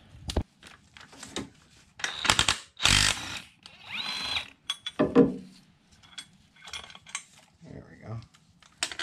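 A power tool works a valve cover bolt on a Nissan Rogue in several short, loud whirring bursts, interspersed with metallic clinks and rattles of the bolt and socket, close by and without talking.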